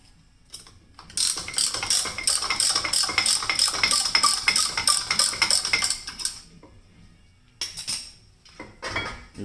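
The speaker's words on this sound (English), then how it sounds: "You'll see it starts pushing the caliper pistons in." Brake caliper pistons on a Toyota Sienna front brake being pushed back in with a ratcheting tool, giving a dense run of close, loud metallic clicking and clanking for about five seconds, then a pause and a few shorter bursts of clicks.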